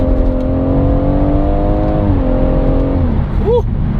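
A BMW M140i accelerates hard, its engine a loud, continuous roar whose pitch rises and then shifts as it climbs through the revs.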